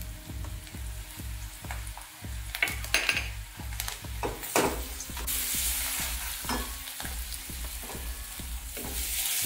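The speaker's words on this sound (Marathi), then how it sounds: "आल्या लसणाची पेस्ट चांगली परतले" Ginger garlic paste fries in a pan for dal khichdi, stirred with rapid regular spoon scrapes and clinks against the metal over a rising, steady sizzle, close and fairly loud.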